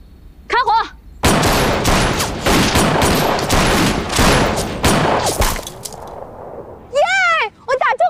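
A loud, rapid volley of rifle fire crackles for several seconds during shooting practice in a Chinese drama set in the war against Japan, with voices calling out just before and after the shots.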